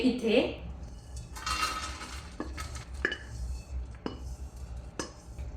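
Roasted dry fruits are scraped and tipped from a pan onto a plate, with close clinks and rattles of utensil on metal while someone speaks briefly.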